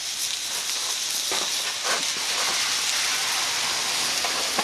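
Hot dogs sizzle on a double-decker hobo stove: continuous close sizzling and crackling, a dense hiss with small pops scattered throughout, unbroken for the whole few seconds.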